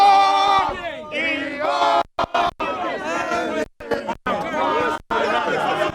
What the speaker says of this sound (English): You can hear them chanting.